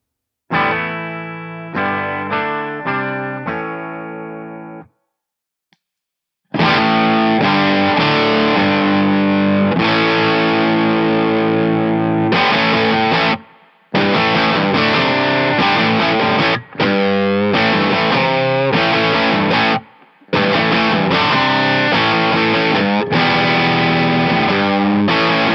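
Electric guitar played through a PRS Horsemeat transparent overdrive pedal set to low gain, with a few picked notes, then sustained chords and riffs broken by short pauses, warm, mildly distorted and close.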